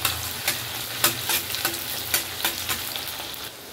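Finely chopped onion and cumin seeds fry in hot oil for a prawn gravy, giving a close, crackling sizzle with rhythmic scraping stir strokes every half second or so.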